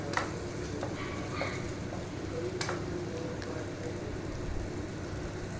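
Potatoes frying in hot oil in a home kitchen while honey chilli potatoes are being made, giving a steady, moderately loud sizzle with a few brief clinks and stirring scrapes, and no talking.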